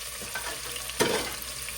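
Ground turkey sizzling and being stirred in a hot pan, a steady close frying hiss with one brief louder stir or scrape near the middle, and no voices.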